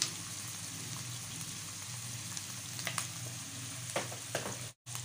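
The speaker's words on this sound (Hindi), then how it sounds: "लहसुन अदरक के पाउडर के साथ मिला के हम इसको फ्राई करेंगे थोड़ी देर।" Shredded chicken fries in a pan with garlic and ginger powder, a steady low crackling sizzle with occasional stirring scrapes, faint and close, with a brief drop near the end.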